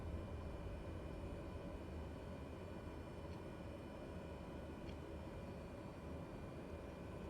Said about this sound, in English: reverse prop on this literally sounds like a vacuum cleaner.